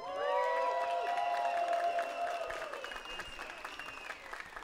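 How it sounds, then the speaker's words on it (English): Audience at a KOF XV esports tournament finals applauds, fairly faint clapping and crowd noise beneath tonal music or effects that fade out toward the end. "Let's give a round of applause for everyone here!"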